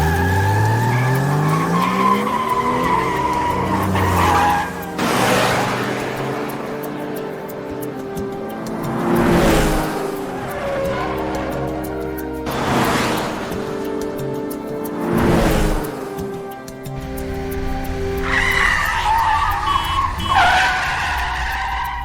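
During a car chase, tires screech and skid in several long, loud squeals one after another, over a roaring engine and passing traffic.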